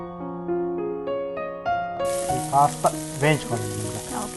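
Sweet corn fried rice sizzles and is stirred in a hot pan, with a loud frying hiss and scraping strokes entering midway after a short run of rising musical notes.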